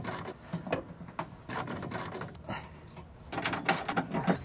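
Spare tire winch under a Sprinter van being lowered with a 19 mm bolt, producing a close, continuous run of ratcheting, clicking mechanical turns that grows slightly louder toward the end.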